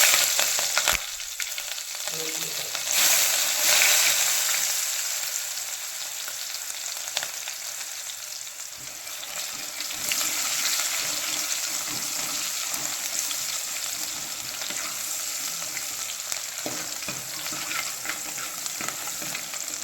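Green chilies sizzling and spitting in hot oil in a home kitchen pan, a continuous bright frying hiss with occasional stirring scrapes, close and steady throughout.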